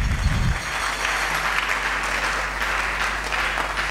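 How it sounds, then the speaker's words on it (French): A Sunday church congregation applauds loudly and continuously, a dense crowd clapping that fills the space, with a brief low burst of voice at the very start. "Est-ce que nous pouvons acclamer très fort?"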